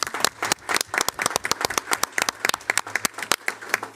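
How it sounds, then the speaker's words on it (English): An audience at a Board of Education business meeting breaks into dense, lively applause, many hands clapping close and loud for the full few seconds. "we got to do one more applause"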